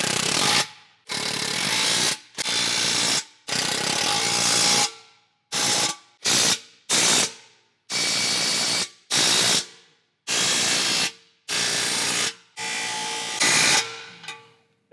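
Ratchet tightening bolts on a truck front bumper, an Ironman 4x4 Raid bumper being installed on a RAM 1500 DT, heard as a series of loud, close bursts of rapid clicking, each about a second long, separated by short pauses.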